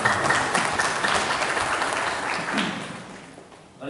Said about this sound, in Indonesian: Saya mohon tepuk tangan untuk semua.